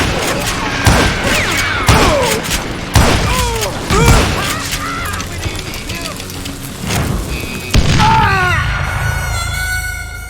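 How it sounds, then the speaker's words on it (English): Repeated gunshots in the Western shooter Call of Juarez: Gunslinger crack out as booming single and clustered blasts about a second apart, loud and close, mixed with shouting voices. "Who's shooting?"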